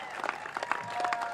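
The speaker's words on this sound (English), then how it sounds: "give yourselves a real big round of applause right now" Crowd applause at the South Park Bridge opening ceremony, a short burst of clapping with scattered cheers at moderate distance, blending into the outdoor murmur.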